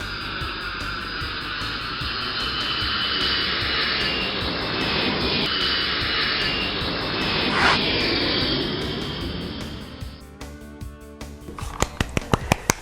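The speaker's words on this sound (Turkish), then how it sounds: "Bu çok iyi bir inişti. Hoş geldin uçak." A cartoon airplane lands on a runway, its engine roaring steadily before fading into a rumble and rattling touchdown bumps at the end, loud and close.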